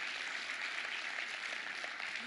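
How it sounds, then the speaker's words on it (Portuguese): A church congregation applauding, a steady wash of many hands clapping at moderate distance, faint and even throughout with no distinct voices over it. "Aplaude com força."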